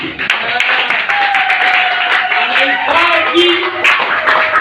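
A church congregation claps hands steadily during worship, a dense continuous patter mixed with voices calling out and singing throughout.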